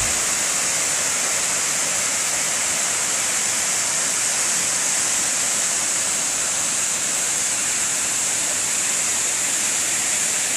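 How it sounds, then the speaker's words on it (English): A waterfall at Pictured Rocks National Lakeshore roars in a steady, dense rush of falling water, constant and fairly close throughout with no voices. "Getting close. Hear water."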